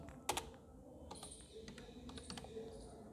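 Computer keyboard typing in a word processor, a short burst of soft, quick key clicks close by over a quiet room hum.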